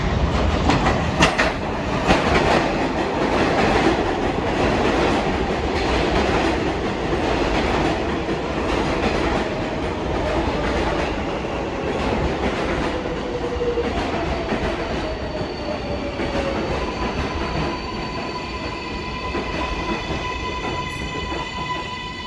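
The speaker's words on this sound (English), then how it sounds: "There is a local 7 train to Flushing Main Street. Approaching the station, please stand away from the platform edge." An R188 local 7 subway train rumbles into 33rd Street–Rawson Street station during the morning rush, a loud, continuous roar of wheels and rail clatter close by, with faint squeals and rising whining tones as it slows.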